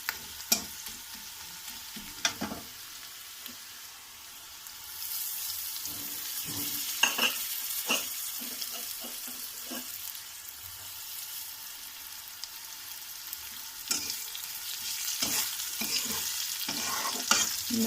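Curry leaves and a pinch of turmeric sizzle in hot oil for a besan curry, a steady crackle with scattered sharp stirring clicks and scrapes, loud and close with no voices.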